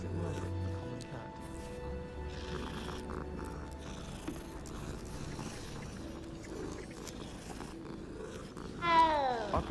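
A common cat in the Hogwarts Legacy video game purrs softly beneath game music and ambience, then gives a short, brighter meow near the end.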